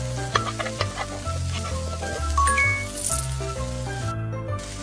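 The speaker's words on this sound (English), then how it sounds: "Stir and fry it." Stir-frying onions and garlic in a pan in a kids' cooking video game, heard as busy sizzling and stirring rattles with little clinks over a steady bed of cheerful game music, with no voices.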